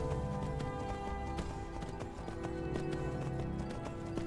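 Rhythmic clip-clop of horse hooves as a rider travels on horseback in Skyrim on Nintendo Switch, a steady trotting beat heard over soft background music.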